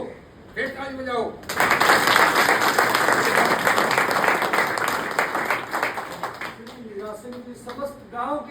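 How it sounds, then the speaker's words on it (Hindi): A rural gathering near Narnaul breaks into loud, dense clapping for several seconds, with brief spoken words from a man before and after the sustained applause. "फिर ताली बजाओ।"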